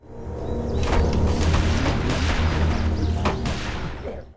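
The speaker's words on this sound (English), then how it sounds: "gunshots can be heard off in the distance which lures the walkers away" Dense, rumbling gunfire bursts from afar in The Walking Dead video game, overlapping and continuous, with sharper cracks punctuating a low roar.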